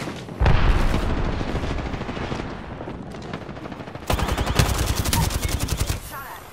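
An airstrike bombardment in Apex Legends, a loud sustained barrage of rapid booming blasts and rattling impacts that pounds without pause and intensifies toward the end.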